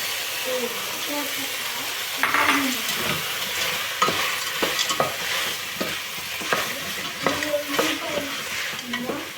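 Potatoes and peas sizzle and fry steadily in a pan, with repeated scraping stirs and clinks of a utensil throughout, fairly close.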